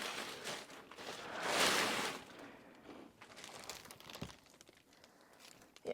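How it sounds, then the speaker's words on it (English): Material being ripped down inside a house under renovation, with insulation in progress: crinkling, tearing rustles that swell to a louder crumpling burst, then fade into scattered softer crackles and a few sharp knocks, fairly close. "I'll rip it down."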